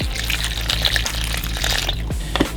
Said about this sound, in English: Now I'm gonna add some vegetable stock